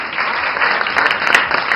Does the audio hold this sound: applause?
yes